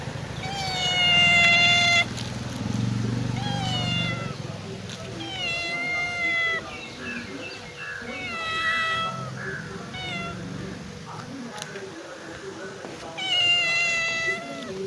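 A cat meows repeatedly, several drawn-out cries spaced a few seconds apart, close by over a low background rumble.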